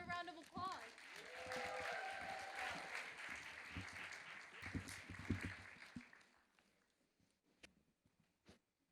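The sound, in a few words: audience applause for panelists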